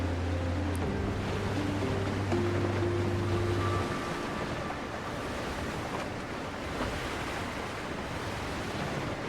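Sailing ship gliding over ocean waves in the video game Windrose, with steady broadband surf and wind noise throughout, a low tonal hum in the first few seconds, and no talking.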